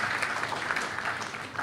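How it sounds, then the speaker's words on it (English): Audience applause at a summit honouring Chess Olympiad gold medalists, a steady dense clapping from a crowd at moderate, fairly distant level throughout the short stretch. "A big round of applause for them once again."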